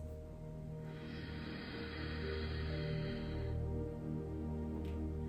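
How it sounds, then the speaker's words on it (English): Ujjayi breath: a slow, steady inhale through the nose with the throat gently constricted, giving a soft ocean-like hiss that rises for about three seconds and then fades, alone and close. "Ujjayi breath is a breath that sounds like the ocean."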